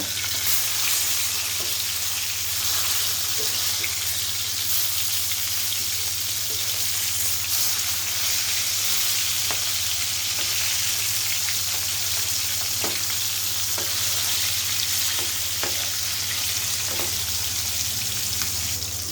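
Katla fish fries in oil in a pan with a loud, continuous close sizzle and crackle that holds steady throughout, a few faint clicks scattered beneath it and no talking.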